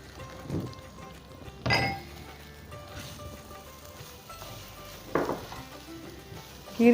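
Poppy seeds and grated coconut sizzle in a pan, a soft steady frying hiss with a few clinks of a spoon against the metal and short louder bursts as the mix is stirred.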